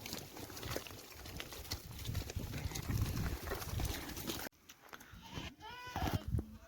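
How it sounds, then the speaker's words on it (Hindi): Sheep and black goats in a pen on a farm in Saudi Arabia rustle and shuffle, and a short bleat rises near the end. "ये देखिए ये हमारी भेड़े बकरियां हैं, भेड़ और बकरी"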